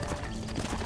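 Horse hooves clip-clop in the Red Dead Redemption video game, a quick muffled burst of steps under a dense, busy game mix.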